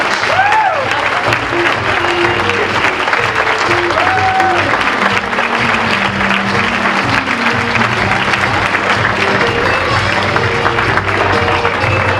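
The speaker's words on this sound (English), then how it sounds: "How about a round of applause for the Queen and her court?" A crowd at the Windsor Shad Derby coronation applauds the Derby Queen and her court with continuous, loud clapping, while scattered voices and whistles rise faintly over it.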